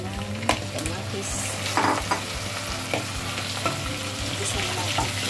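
Tomatoes sauté in a hot frying pan with shrimp paste, sizzling steadily while a utensil stirs and scrapes at irregular moments, close and fairly loud, with no speech.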